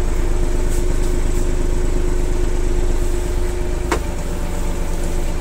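Japanese tractor with cab, tiller and blade running, a steady close engine chug with a constant drone and a brief sharp click near the end.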